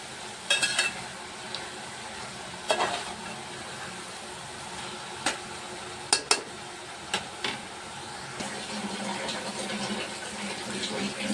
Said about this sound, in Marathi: आपल्याला कांदा, टोमॅटो, मिरची एकत्र असे व्यवस्थित फ्राय करून घ्यायचे